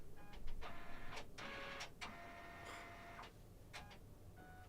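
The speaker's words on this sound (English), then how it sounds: "My printer's just decided to clean itself today" An inkjet printer works through its self-cleaning cycle nearby, with a string of mechanical whirs, clicks and short motor bursts that start and stop at uneven intervals, all fairly quiet.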